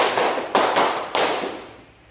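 A group of adults at a teacher training session claps in unison in a short rhythmic pattern: a few sharp, loud, echoing claps that ring out and fade away.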